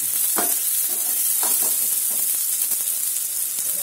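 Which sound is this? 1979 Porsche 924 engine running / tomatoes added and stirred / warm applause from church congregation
tomatoes added and stirred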